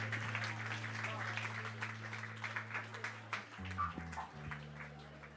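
Audience applause at an award ceremony for a tourism tech competition, a steady wash of clapping with low musical tones humming underneath, moderately loud throughout.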